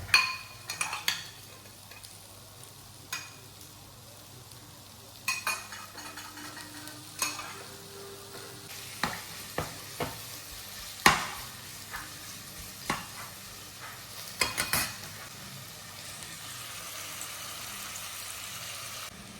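Vegetables stir-frying in hot oil for chicken chow mein, heard as a steady soft sizzle with repeated scraping and stirring knocks, close and fairly quiet, with no one talking.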